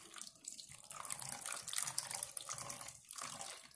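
White vinegar pours in a steady, close liquid stream for several seconds, a soft continuous splash and trickle with no talking.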